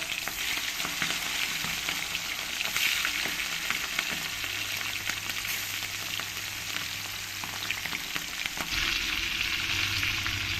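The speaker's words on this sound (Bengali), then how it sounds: "এবার আমি এক এক করে চিকেনগুলো তেলের মধ্যে দিয়ে দেব দিয়ে ফ্রাই করে নিতে হবে" Chicken pieces fry in hot oil for a chicken bhuna, a dense, loud, continuous sizzle and crackle with a low hum beneath and no voices.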